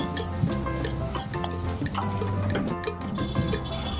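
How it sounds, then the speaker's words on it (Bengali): Raisins frying in hot ghee in a pan, giving a steady close sizzle with stirring scrapes and light clatter throughout, no talking. "এবার এই ঘিয়ের মধ্যে আমি কিশমিশগুলি একটু ভেজে"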